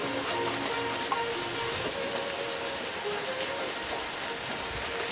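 Steady rain falls with water pouring down on an outdoor dining spot, a constant dense hiss filling the scene at close range with no one speaking.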